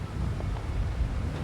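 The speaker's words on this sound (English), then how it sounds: "it's not blizzarding, it's just really, really windy" Strong wind roars steadily in The Long Dark survival game, a loud, constant low rushing gust with no pause.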